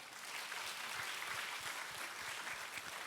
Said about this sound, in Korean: 지금 우리 피아노석에 우리 렘넌트들 많이 앉아 있는데 박수를 한번 주십시다.